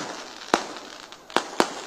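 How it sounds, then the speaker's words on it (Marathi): Firecrackers at a political rally in Maharashtra: three sharp loud bangs spaced irregularly over a faint crowd background, no speech. "फटाके बंद करा, फटाके"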